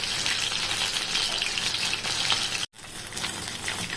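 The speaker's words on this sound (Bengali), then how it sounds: "এখন কর্নফ্লাওয়ার মেখে তারপরে এটাকে ভাজছি" Cornflour-coated chicken lollipops frying in hot oil, a steady close sizzle and crackle with one abrupt brief break before the frying noise resumes.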